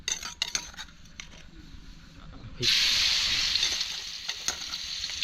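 Hot oil in a pan for a wild boar holy basil stir-fry suddenly bursts into a loud, steady hiss and sizzle after a few light clinks of utensils, then settles into continuous frying.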